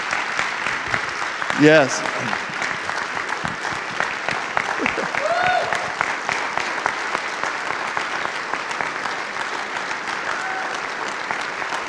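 Congregation clapping in a church service, a dense steady round of applause with brief voices and a short exclamation over it early on, continuing evenly throughout.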